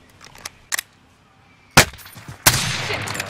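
Two loud, sharp gunshots crack close by in a Modern Warfare Warzone duos match, preceded by a few softer distant pops and quiet gaps.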